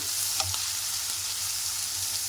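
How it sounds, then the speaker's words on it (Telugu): Turmeric being stirred into a sizzling frying mixture in a pan while making gongura chicken, with steady close frying hiss and a few soft scraping stir sounds throughout. "ఇప్పుడు దీంట్లోనే ఒక స్పూన్ పసుపు అంతా కలిపేసుకొని"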